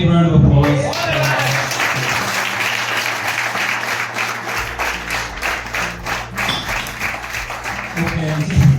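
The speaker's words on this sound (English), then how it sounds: "So, big round of applause." Audience clapping steadily at a football club senior presentation evening, a sustained round of applause from a room full of people that swells slightly near the end.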